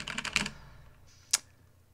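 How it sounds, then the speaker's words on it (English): Clicky computer keyboard typing, a quick burst of rapid close keystrokes followed by a pause and one sharp, louder single key click, with no talking. "Do you guys like clicky keyboards?"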